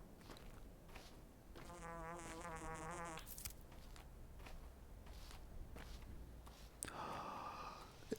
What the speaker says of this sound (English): That's what I keep hearing. Fucking flies.